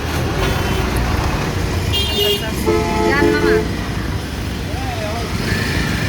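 Traffic stands jammed at Gulistan in Dhaka on a rainy evening, with a steady road roar and a few car horns tooting close by in short bursts. A voice talks over the noise.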